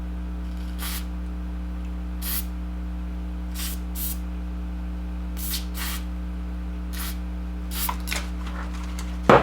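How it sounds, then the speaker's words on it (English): Short bursts of cleaner sprayed into the controls of a Music & Sound (M&S Systems) MC602 intercom, about eight quick hissing puffs spaced unevenly over a steady electrical hum, close and fairly quiet, with no talking. "And then we're going to spray a little more."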